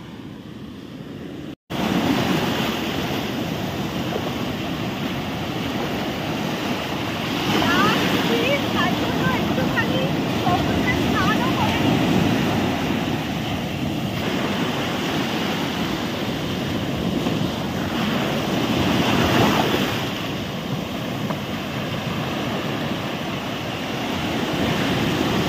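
Sea waves wash onto a beach at Gopalpur, a continuous roaring surf with wind buffeting the microphone, swelling and easing, loud and close, with no talking.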